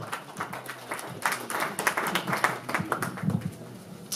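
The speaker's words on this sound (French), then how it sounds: "Je vous demande d'applaudir très fort Madame Milvin Altidor" An audience at a Haitian community event applauds an honoree called forward, with moderate, uneven clapping that swells and fades over a few seconds.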